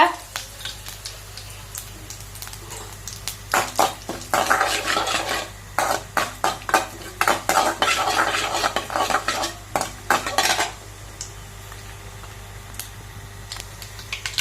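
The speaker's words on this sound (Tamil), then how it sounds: "கடுகு நல்லா பொறிஞ்சு வரட்டும் கடுகு லைட்டாக பொறிஞ்சு வருது" Mustard seeds and cumin sputter in hot oil while dal tempering cooks in a pan, giving bursts of sharp crackling pops that cluster densely in the middle and thin out toward the end, close and fairly loud with no talk.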